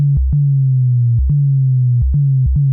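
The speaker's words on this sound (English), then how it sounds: "the sound that click at the beginning of an 808 is the pitch starting from really high up" Loud, deep synthetic bass notes repeat in an uneven rhythm, each sliding slowly downward in pitch, with short clicks where new notes begin.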